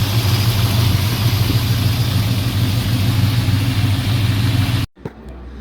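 A restored 1968 Dodge Charger R/T with a 440 big block idles loud and close in a steady, smooth rumble that cuts off abruptly near the end.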